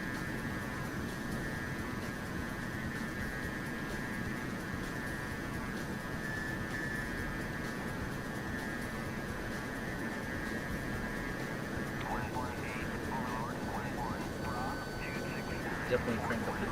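A MiG-29 Fulcrum's jet engine drones steadily in flight in the DCS World simulator, a constant low roar with a thin electronic tone layered over it, while someone talks over the engine.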